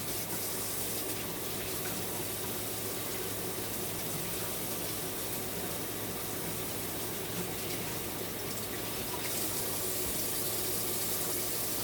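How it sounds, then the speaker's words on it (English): Tap water runs steadily into a kitchen sink while someone washes their hands, a constant close rushing flow for several seconds with no talking. "Just washing my hands up."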